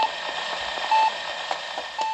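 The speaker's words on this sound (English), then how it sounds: "What's that beeping?" Electronic beeping in the Among Us video game: short evenly spaced beeps over a steady game hum with light clicking, fairly loud and without talk.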